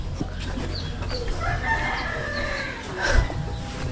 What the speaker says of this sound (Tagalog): Ba, ang dami ng sisiw oh.